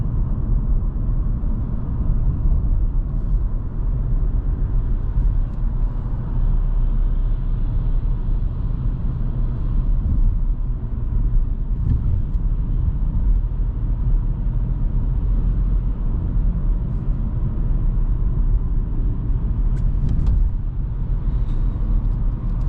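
Cabin of a 2023 Volkswagen T-Cross with a 1.0 TSI 110 hp engine driving in normal mode: a constant low engine and road rumble fills the interior, steady and unbroken, with no voices.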